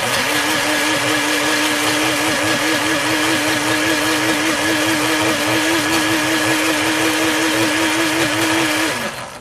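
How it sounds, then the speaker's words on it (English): A kitchen blender runs steadily at full power, chopping onions and tomatoes into a chili sauce. It holds a loud, even whir with a steady motor tone, then cuts off right at the end. "So I like to blend ours up so it's almost part of the sauce."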